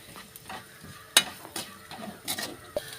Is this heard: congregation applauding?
no